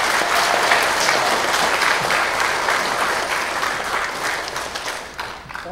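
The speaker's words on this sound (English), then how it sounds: "Let's give another round of applause." A church congregation gives a round of applause during a Sunday morning service, with dense, loud clapping that holds steady before tapering slightly at the end.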